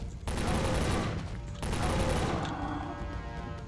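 Rapid bursts of gunfire from the Wii shooting game Top Shot: Dinosaur Hunter, two loud sustained volleys with a brief pause between them, then fading into quieter game background.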